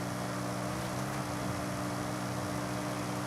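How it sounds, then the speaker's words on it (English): A constant car engine drone with steady tonal hum from a car right beside the player in Forza Horizon 5 fills the whole stretch, close and even in loudness, with no voices. "Hear a car right next to me."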